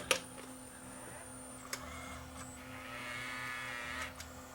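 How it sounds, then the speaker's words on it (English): A secondhand Sony camcorder in VTR mode threads a tape, giving quiet mechanical clicks and a soft motorised whirr that rises briefly near the end, close and faint. "It threaded the tape."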